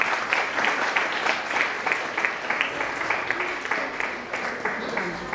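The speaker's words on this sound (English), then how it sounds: "Please clap for them." An audience at a school annual day function in Pune claps for teachers called up onto the stage, a steady mid-level applause with a few louder individual claps, and a faint voice or two underneath.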